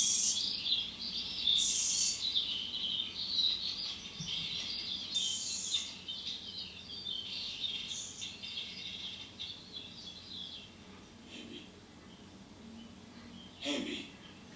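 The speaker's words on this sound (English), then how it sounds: "clearly with the birds who are beginning to sing in the sun" Birds singing in the early morning, several chirps and short trills repeating throughout, some nearer and others faint, with soft background noise and a louder call near the end.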